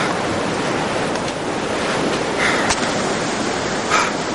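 Ocean waves washing against the rocks at Laguna Beach, a loud continuous rush of surf with wind buffeting the microphone, close by and without speech.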